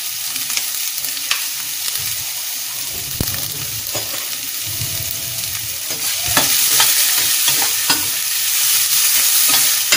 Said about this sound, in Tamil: நல்லா வெங்காயம் வதங்கட்டும்.